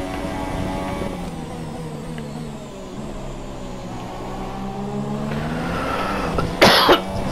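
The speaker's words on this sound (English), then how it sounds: "this fucking cough is starting to get annoying on my fucking lungs." A person coughs once near the end while playing F1 2017 during a United States Grand Prix practice session. A steady racing-car engine drone from the game runs underneath throughout.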